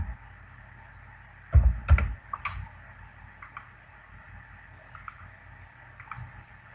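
Sharp computer mouse clicks in payments software on a quiet desk: a cluster of loud double clicks near the start, then a few softer scattered clicks, with no talking.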